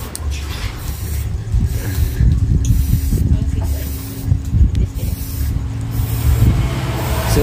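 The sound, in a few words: spray can hissing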